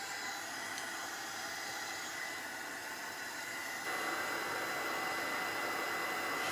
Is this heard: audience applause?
no